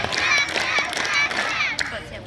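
A group of children clapping together at a storytelling gathering before breaking the fast, dense and lively, with excited voices mixed in throughout.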